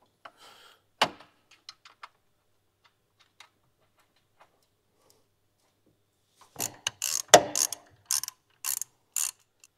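A winch's bracket is screwed back onto a 2023 Ford Ranger with a ratchet or driver, heard as sparse close clicks at first and then a dense burst of ratcheting and metallic knocks.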